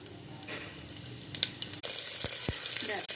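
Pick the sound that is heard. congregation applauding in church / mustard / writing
mustard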